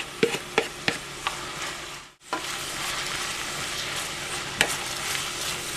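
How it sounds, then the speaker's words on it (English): Onions frying in about a quarter cup of olive oil in a hot pan for red lentil mujaddara, a steady close sizzle broken by sharp stirring clacks early on and a brief pause midway. "To this I'm going to add the onions."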